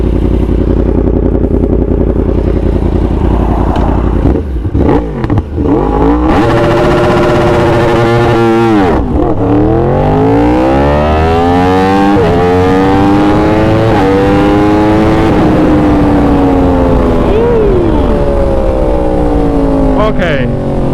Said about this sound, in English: launch control 2 revs all the way out